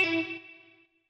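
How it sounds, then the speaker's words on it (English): An electric guitar riff on a Gibson SG with effects such as distortion and echo, for a disco house track: a short, bright chord rings out alone and fades away within about a second. "It's a simple, just like a little guitar riff."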